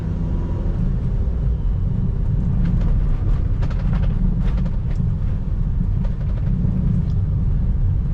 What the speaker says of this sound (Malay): Kita pergi test ride ni kereta